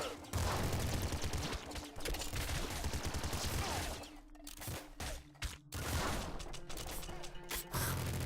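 Minigun fire in the game Nuclear Throne: dense, clattering bursts of rapid shots in a loud, steady stream, broken by two short pauses, with a voice talking over the gunfire.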